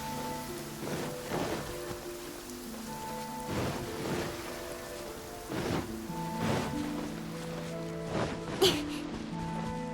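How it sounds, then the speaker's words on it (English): Heavy rain downpour in the video game Genshin Impact, a steady dense hiss of falling rain running throughout beneath soft layered music. "Quite a downpour."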